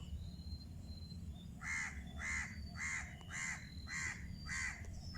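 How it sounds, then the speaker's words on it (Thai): A crow caws about seven times in a regular, evenly spaced series, fairly close, after a quiet start with distant background hum. "เสียงอีกาค่ะ"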